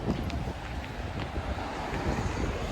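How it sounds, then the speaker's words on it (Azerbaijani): Gusty wind on a breezy, overcast, muggy day outdoors makes a steady, loud rumbling roar that buffets the microphone throughout, with no clear pauses. "Bugün hava biraz küləklidir"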